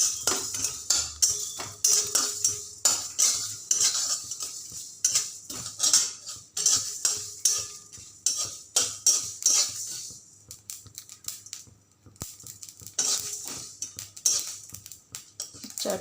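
Spices sizzling and crackling in a pan without oil while making chana dal, with sharp clattering bursts and pops close by, continuing in busy waves for about sixteen seconds with a brief lull near the end.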